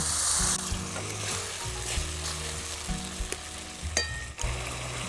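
Ground tomato paste and a splash of water go into a hot frying pan, raising a strong, steady sizzle broken by stirring scrapes and a few sharp spatula knocks against the pan.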